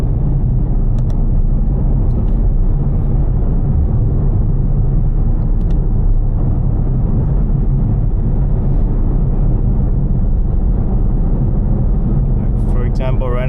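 A Mercedes C63 AMG cruises at night around 3,000 RPM, its engine a loud, continuous low rumble and road drone beneath someone talking throughout.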